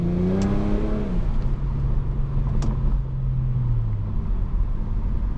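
A car with a custom aftermarket exhaust downshifts, its engine note dropping sharply and then settling into a low steady drone that fades slightly, under continuous road and wind noise with no talking.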